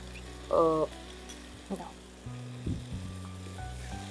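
Prawns sauté with spices in a kadai for a lentil dal, making a low, steady sizzle under brief tonal sounds and soft clatter.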